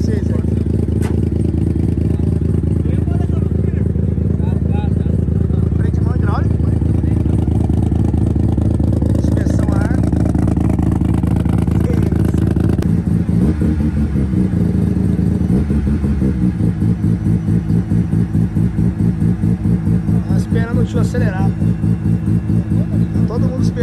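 A motorcycle engine idles loudly nearby in Tokyo, then revs up in repeated bursts with a rapid, throbbing rattle. People talk over it at times.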